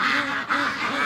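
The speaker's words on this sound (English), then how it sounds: "the ducks now are calming down" Free range ducks quacking close by in several rapid, repeated nasal calls that rise and fall in quick succession, heard alone.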